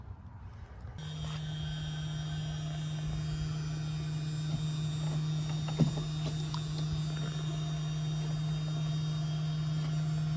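An electric fuel pump for a TDI diesel engine swap starts up and runs with a steady, even hum and whine at close range, with a brief knock partway through.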